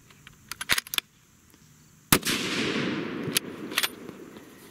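A Sig Cross rifle in .308 Winchester fires a handloaded round: a few metallic action clicks, a pause, then one loud outdoor shot trailing into a long, rumbling decay.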